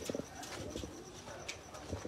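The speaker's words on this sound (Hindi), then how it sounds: "ये है तो टैडी कबूतर" Soft, repeated cooing from female teddy pigeons kept by a breeder, several low murmuring calls in close succession, nearby and moderately loud over faint background noise.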